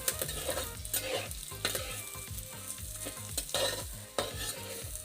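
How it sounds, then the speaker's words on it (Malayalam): Onions and mutton sauté in a pan for a Kerala-style mutton curry. A continuous sizzle runs under repeated rhythmic stirring and scraping strokes from a spoon against the pan, up close with no talking. "ഇനി അതും കൂടെ നല്ലപോലെ ഒന്ന് വഴന്നു വരുന്ന രീതിയിൽ നമുക്ക് ഇളക്കി കൊടുക്കാം."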